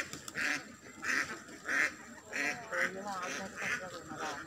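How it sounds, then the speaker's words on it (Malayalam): A flock of ducks quacks in repeated loud, regular bursts about every half second, close by, with a voice talking faintly underneath. "ചേച്ചി. താറാവ്"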